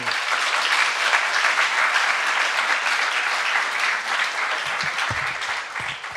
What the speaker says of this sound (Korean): 우리 박수로 목사님.